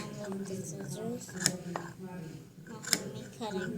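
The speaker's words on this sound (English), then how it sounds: "That's the sound of the scissors." A few sharp scissor snips, crisp and close, ring out between and beneath steady talking voices.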